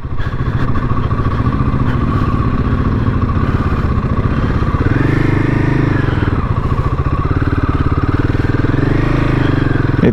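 A motorcycle rides a dusty, sandy road during a Republic Day group ride in Assam, its engine loud and close throughout, rising in revs midway with rattling clatter.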